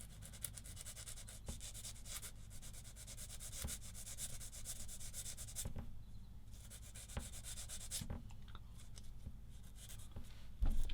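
A part from a Tamiya 1/35 SdKfz 222 armoured car kit is sanded by hand, quiet close-up rasping strokes repeating in an uneven rhythm with brief pauses, no speech.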